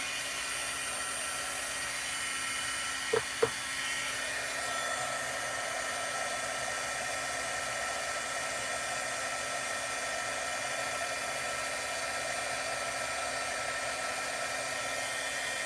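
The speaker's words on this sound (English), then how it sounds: "You might want to turn down your volume just a minute while my heat gun is going." A heat gun runs steadily over embossing powder in a craft setting, a constant airy blower whir at moderate level, with two brief clicks early on and no talking.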